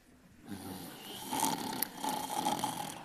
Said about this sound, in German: du schnarchst wieder